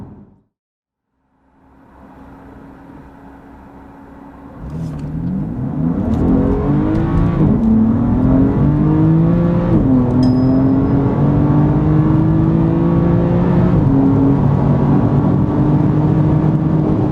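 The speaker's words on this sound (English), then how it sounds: "Reviness like an M car should." BMW M3 Competition F80 engine revving up from idle, rising and falling in repeated loud, close throttle blips that settle into a steady, powerful rumble.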